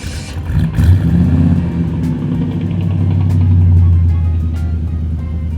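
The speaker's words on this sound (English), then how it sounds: "full stainless steel exhaust with Magnaflow mufflers, dual exhaust. Sounds very nice." A 1951 GMC panel van's engine rumbles low and steady nearby through a stainless steel dual exhaust with Magnaflow mufflers, its deep note swelling slightly as it revs, loud and continuous.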